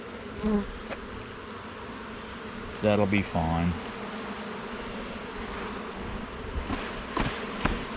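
Many honeybees buzz at a hive in a steady, continuous drone close by, while a person speaks briefly over it.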